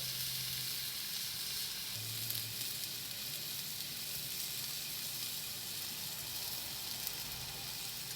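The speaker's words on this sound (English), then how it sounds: "We're going to turn our pork loin over. Let it sear for about a minute on this side." Pork loin searing on a hot grill, a soft steady sizzle and crackle that runs unbroken throughout, faint and fairly distant, with no voices.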